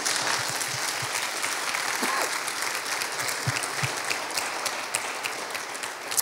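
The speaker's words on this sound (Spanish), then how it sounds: "Denle un aplauso al Señor." A congregation applauds during a church sermon, a steady, full round of clapping with a few sharper individual claps and faint voices mixed in.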